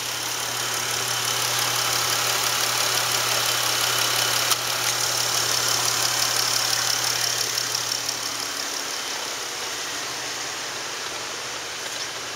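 A 2013 Dodge Caravan with a 3.6 engine runs at a steady idle, a close, continuous hum with a faint mechanical vibration and no change in pitch.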